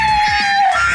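A person imitates a velociraptor with a loud, sustained high-pitched scream that holds steady for about a second, close to the microphone with no talk over it.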